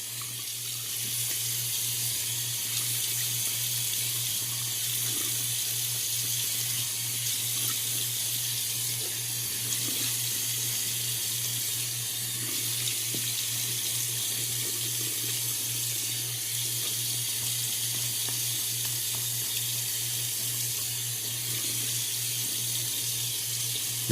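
Tap water runs steadily into a sink to wet a shaving brush, a continuous close splashing flow with a low steady hum underneath, no voices.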